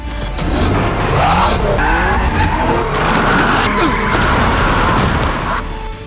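A car drifts through crowds of zombies in a Korean zombie action film trailer. Tires skid and squeal loudly and continuously over a roaring engine, with dense background rumble and booms throughout.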